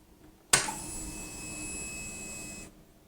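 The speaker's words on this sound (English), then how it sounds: "Fuel pump prime. It needed a long prime there." Fuel pump priming on a Harley-Davidson motorcycle after a fuel filter swap: a steady electric whine with a sharp onset, holding level for about two seconds before cutting off cleanly.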